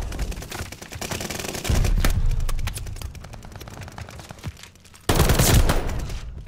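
Rapid automatic gunfire from a Kill Confirmed multiplayer video game match, loud and close, with long sustained bursts, a brief lull and a heavy burst at the end, and no talking over it.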